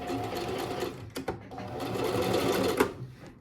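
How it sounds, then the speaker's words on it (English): Sewing machine running a kimono seam, starting and pausing briefly, then stitching on with a short backstitch; a steady close whir with a brief stop near the middle and faint talk underneath. "I'm gonna gently lower it, and I'm gonna start sewing, and then I'm gonna backstitch."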